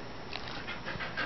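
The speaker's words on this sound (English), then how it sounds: "they get a happy froggy doggy panting from Merdie" A dog pants happily after eating treats: quick, breathy, continuous panting heard close up for a moment, with no talking.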